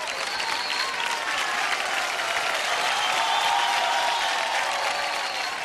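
A sustained round of audience applause fills an award-show hall as the crowd votes for Rahul's sari, clapping thick and even throughout with faint crowd murmur underneath.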